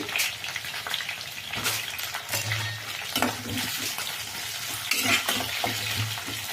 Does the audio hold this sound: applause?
no